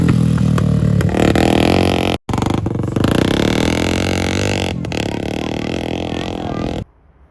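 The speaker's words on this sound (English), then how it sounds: "I'm actually gonna pull up the videos of the dirt bike trip that we did so you guys can see how much of a screamer it actually was" A Yamaha dirt bike revs hard on a trail trip: a loud, close engine scream held for most of the stretch, broken by one brief cut, then dropping away near the end.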